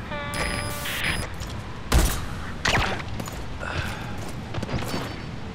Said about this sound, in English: we have a sniper, so let's have Quiet take care of this guy.